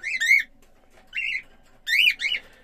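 A male cockatiel gives short, soft chirping and warbling calls in three bursts with quiet gaps between, close and fairly faint, with no one talking.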